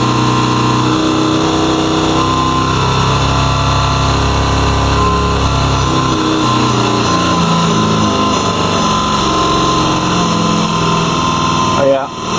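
A Siemens VDO Continental diesel pump from a 2016 Ford Transit runs steadily on a test bench at 2000 RPM, a loud continuous mechanical hum with talk over it, cutting off abruptly near the end.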